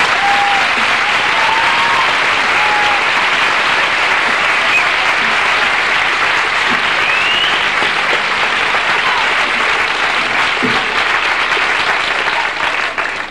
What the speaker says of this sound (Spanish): El primer aplauso va a ser para la congregación, sus profesores, su personal administrativo y todos los que han hecho posible estos 3 años